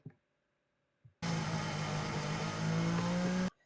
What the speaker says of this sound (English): this is Hamilton coming by coming by turn 14 on lap 54